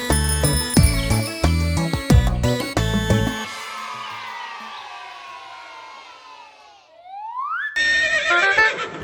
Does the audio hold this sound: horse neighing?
yes